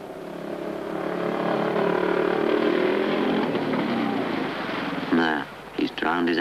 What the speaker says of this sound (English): There, he's drowned his engine.